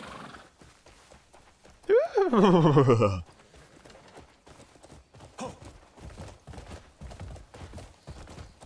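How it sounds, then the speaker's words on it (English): A horse whinnies loudly for about a second in the video game Crimson Desert, followed by soft rhythmic hoof clops on the ground amid faint background sounds. "I like this horse a lot."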